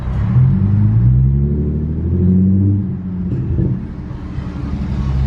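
A parked Infiniti Q50 with an ISR single exit exhaust idles and blips between enclosed walls, a deep, loud rumbling drone that swells briefly and settles back to a steady burble.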